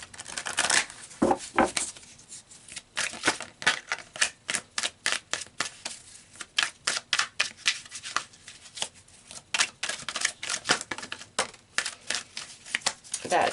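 A tarot deck is shuffled and cards are pulled, making a rapid, rhythmic series of crisp slapping riffles close up that runs through the whole stretch, with a voice talking in brief moments.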